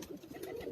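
Pigeon cooing softly on a Karachi rooftop loft, a low, continuous murmur of one bird over 0.8 seconds, faint and close.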